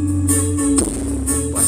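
A Polytron Pass 68 cassette deck plays bass-heavy music at steady volume, heard alone without talk.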